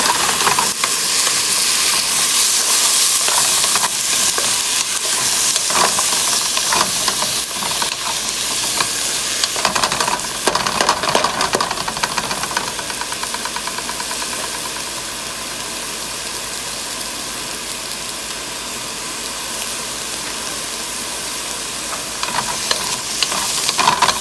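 Onion and semi-cooked shrimp stir-frying in a pan, with a loud, continuous sizzle and occasional scraping stirs that ease slightly partway through.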